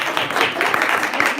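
Audience clapping at a solo piano recital, a steady dense patter of many hands at close range for a short stretch.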